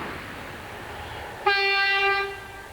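A train crossing Proof House Junction sounds a loud, sustained horn blast halfway through over a low rumbling background, the tone holding for under a second before fading.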